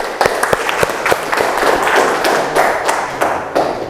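Classroom applause for a student at a university teacher-training session: a burst of many hands clapping, dense and fairly close, with sharp individual claps standing out, sustained for about four seconds with no talk over it.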